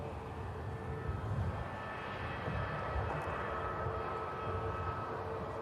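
An airliner taxis past at Manchester Airport, a steady broadband engine roar with a faint whine that holds level throughout, swelling slightly as it passes, with no voices.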